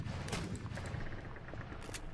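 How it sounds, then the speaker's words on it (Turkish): Ship cannon fire in a Garry's Mod naval battle, a dense, continuous rumbling barrage of booms and bursts, loud and close with no talk over it. "Onu da topla vurdum."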